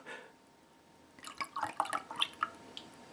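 Vinegar poured from a bottle, a quiet, close series of gurgling glugs and drips coming in a quick uneven burst after a moment of near silence.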